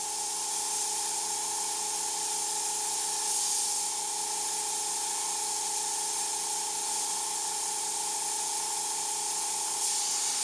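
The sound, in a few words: airbrush spraying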